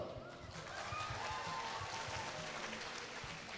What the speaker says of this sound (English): So a big applause goes to you.